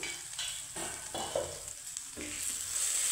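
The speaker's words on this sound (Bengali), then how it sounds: "তো এখানে আমার দেখো ফুলকপিটা সুন্দর করে আমি ভেজে নিয়েছি।" Cauliflower frying in a pan gives a soft, low-level sizzle with occasional gentle scrapes and clinks, fairly quiet and without talk.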